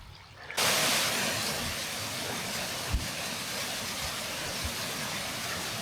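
Rushing water from a waterfall in the Langdale Pikes, Lake District, roars as a steady, broad wash close by, with a couple of brief thumps and no talk.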